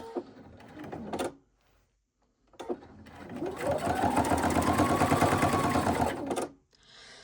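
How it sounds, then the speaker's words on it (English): A sewing machine stitches a seam across a top piece of fabric for a scrappy heart garland, two short bursts and then a steady, fast rhythmic run of several seconds, close and clear with no talking. "I am going to sew on this top piece of fabric, that seam there"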